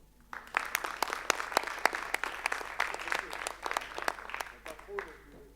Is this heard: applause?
yes